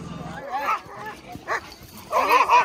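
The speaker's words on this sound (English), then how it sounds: "And the dogs are going crazy over there." Sled dogs at a dog camp in Alaska bark and yelp excitedly in short overlapping bursts, close by and mixed with voices talking.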